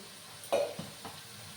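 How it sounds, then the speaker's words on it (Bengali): Onions fry in a pan with a soft, steady sizzle, broken by a sharp clink of a spoon on the pan and two quieter stirring scrapes. "এদিকে আমার পেঁয়াজগুলো ভাজা হতে থাক"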